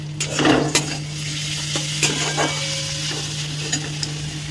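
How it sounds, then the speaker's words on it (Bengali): Bitter gourd and pumpkin frying in a pan at home, a steady sizzle broken by a few louder stirring scrapes, with a constant low hum running underneath. "আর এখানে আমি করতে হচ্ছে উচ্ছে কুমড়ো ভাজা"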